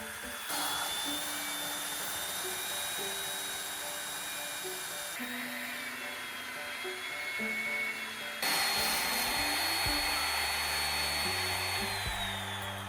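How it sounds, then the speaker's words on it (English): A high-pitched drill whines steadily while boring holes into a concrete block, with the motor pitch shifting between stages and a louder stretch toward the end. "I was able to drill holes in the block easily."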